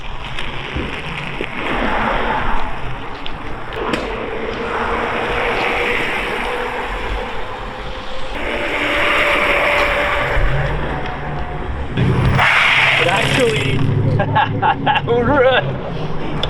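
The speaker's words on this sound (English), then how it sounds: "It actually stops the motor when you shift" Mid-drive electric bike motor whining steadily while riding outdoors, with a shift through the gears that briefly cuts the drive, all under continuous wind rush and road noise; a rider talks over it.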